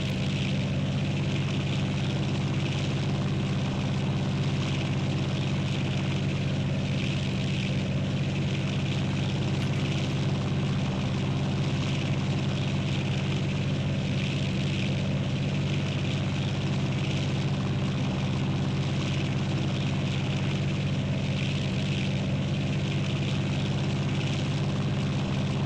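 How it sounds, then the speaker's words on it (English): A steady propeller engine drone from a glider tow plane in the Condor3 soaring simulator, continuous and unbroken, loud and near with a constant pitch. "Now the tow plane's back in front."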